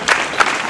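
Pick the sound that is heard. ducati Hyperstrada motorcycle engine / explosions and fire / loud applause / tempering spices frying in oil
loud applause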